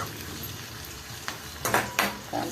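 Sliced onion sautéing in a pan, a low sizzle with a few sharp scraping stirs and utensil knocks near the end, with no voices.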